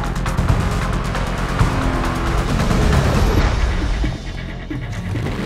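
A car engine roars loudly and steadily in the racing video game Need For Speed Most Wanted, dropping back slightly near the end with no talk over it.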